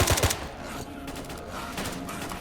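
Automatic gunfire in the video game S.T.A.L.K.E.R. Call of Chernobyl, a loud rapid volley of shots at the start followed by quieter distant bursts of fire.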